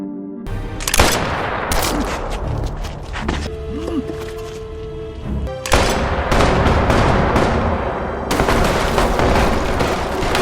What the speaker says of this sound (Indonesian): dia memaksa salah seorang prajurit melepaskan tembakan